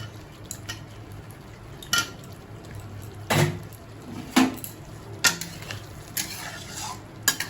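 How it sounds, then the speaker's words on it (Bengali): Potatoes are stirred in a thick, gently sizzling mixture, a spoon scraping and clinking against the pan at irregular intervals, close by and quiet otherwise. "ভাজা আলুগুলো মশলায় দিয়ে দেবো মশলা কষানো হয়ে গেছে আলুগুলো দিয়ে আরেকটু কষাবো"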